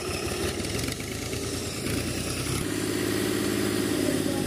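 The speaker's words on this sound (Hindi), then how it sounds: "ट्रैक्टर स्टार्ट करके वेखने कि सूरत वाला पानी पखा चकदा या नहीं" A Fiat 480 tractor engine turns over and settles into a steady mid-pitched running rumble, growing slightly fuller partway through, while it drives a water fan for watering crops outdoors.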